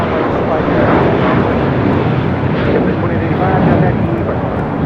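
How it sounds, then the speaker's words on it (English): JetBlue Airways A321 airliner taking off at LAX, a steady loud broadband engine roar filling the whole stretch without letup. "This is Suavemente taking off to Miami, Florida on an A321 JetBlue Airways 2885"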